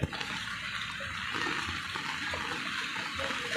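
A continuous loud rush of floodwater surging under pressure along a flooded road during very heavy rain, broad and turbulent, with no pauses.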